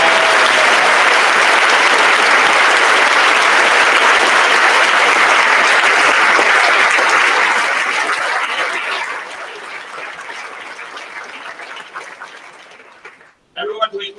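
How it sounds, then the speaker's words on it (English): Loud, dense applause from a large audience at a middle school moving-up ceremony fills the room steadily, thins out and fades after about nine seconds, then a brief burst of noise follows near the end. "how about another round of applause for Stephen Everhart"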